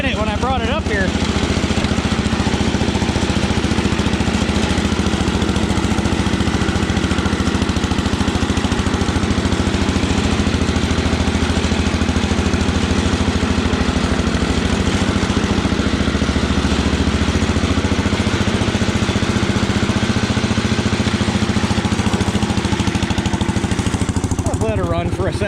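A small engine runs continuously and loudly nearby with a steady drone throughout, and a voice can be heard beneath it.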